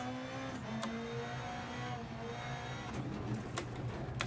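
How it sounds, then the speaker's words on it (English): A steady, droning rallycross car engine in the video game Dirt Rally 2.0 hums throughout, with a few brief sharper revving bursts near the end, no voices, continuous and moderately loud. "This car is so loud."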